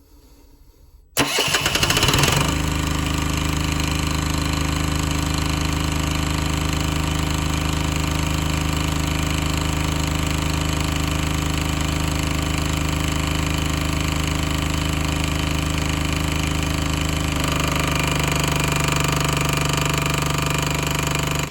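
A narrowboat's generator starts up abruptly after a second of near silence, then runs steadily and loudly with a constant mechanical drone and rattle, a faint shift partway through but no talking over it.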